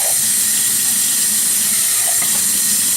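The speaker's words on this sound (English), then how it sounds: "So I'm just going to rinse them out a bit." Running tap water pours steadily over canned black beans being rinsed in a kitchen sink, a continuous close hiss and splash that holds unbroken throughout.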